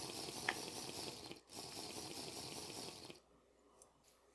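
Water runs and splashes steadily in the video game Technofirma, a continuous faint gush of liquid that drops away near the end.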